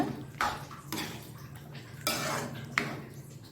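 A utensil scraping and clinking against a metal kadai in several slow strokes while stirring mushroom gravy after adding water, with brief pauses between them, close and fairly quiet.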